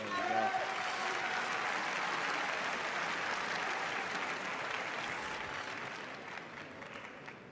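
Audience applause rises at a karate kata bronze medal match at the World Championships in Budapest, a dense steady clapping from a large crowd that slowly thins and fades toward the end.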